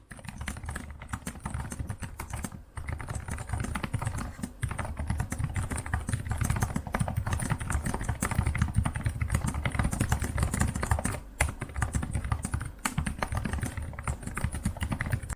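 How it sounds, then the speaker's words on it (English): Fast, steady clicking of a Lenovo Ideapad 5 14-inch laptop keyboard as someone types continuously, close to the listener, with only brief pauses. "Here is a test of how the keyboard sounds."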